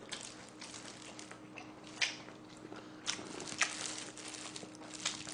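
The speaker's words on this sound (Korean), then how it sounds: "이게 또 쩝쩝 소리가 안 날 수도 없어" Soft chewing and wet mouth sounds from someone eating braised pork trotters (jokbal) and buckwheat noodles on a platter, quiet close-up crunches and smacks over a faint steady hum, no talking.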